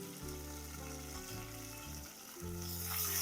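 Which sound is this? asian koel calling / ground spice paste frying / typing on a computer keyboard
ground spice paste frying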